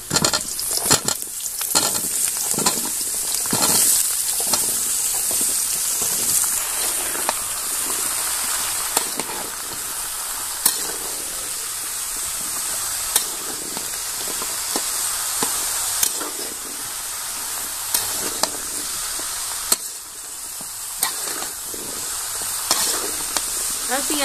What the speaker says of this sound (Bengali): আর পেঁয়াজের সাথে সবজিগুলো ভেজে নিব।